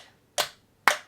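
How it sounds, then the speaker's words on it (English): Two sharp, close hand claps land about half a second apart in time with a metronome, part of a clap-along rhythm exercise for learning Irish fiddle, with nothing else audible. "I'm going to just clap my hands here"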